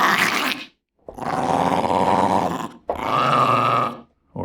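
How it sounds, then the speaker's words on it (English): Dog growl vocal samples played back in a Radium V5 Pro sampler: three deep, rumbling growls, each about a second or more long, separated by short silences, loud and dry with no talking. "If I want to make some layers of some creatures or some dog vocals"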